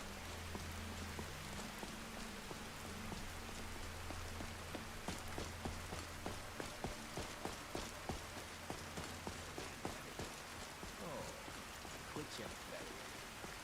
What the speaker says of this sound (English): Try and get out of this rain eventually.